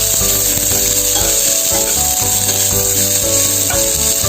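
Roughly chopped onion sautéing in a pan gives a loud, continuous sizzle, with a low steady hum and faint tonal clinks running underneath.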